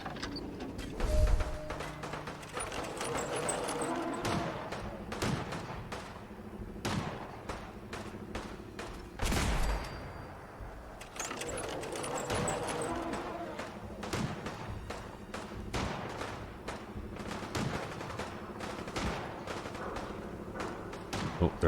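Repeated gunshots from Fallout 4 crack out in scattered single shots and quick volleys throughout, some sharp and near, others duller, over a steady game ambience with occasional talking.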